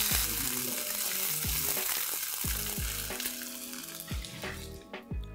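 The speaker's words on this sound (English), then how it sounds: "Let's add in paste of ginger and garlic and give this a quick mix" Ginger-garlic paste and goat meat (mutton) fry in a hot pan, giving a loud, steady, close sizzle that fills the clip. Several soft stirring knocks from the utensil cut through it.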